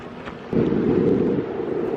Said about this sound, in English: that breeze that's blowing is really chilly